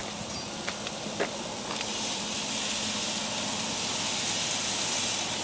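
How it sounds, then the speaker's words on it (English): Steaks grilling outdoors on a Mother's Day cookout, giving a steady broadband sizzle and hiss throughout, with a few faint clicks early on and no talk. "So now let them grill on the meat side now, where all the meat can cook"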